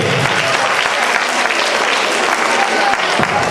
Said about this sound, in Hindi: जोरदार ताली हमारे सुमित के लिए।